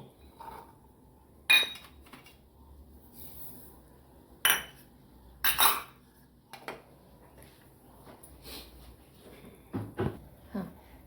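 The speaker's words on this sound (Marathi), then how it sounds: "आता आपण लसूण आणि ओवा थोडासा वाटून घेऊ" Garlic and ajwain being crushed for bhajani chakli dough, with sparse, quiet knocks and clinks of a utensil against a vessel, separated by pauses and close by, with no one talking.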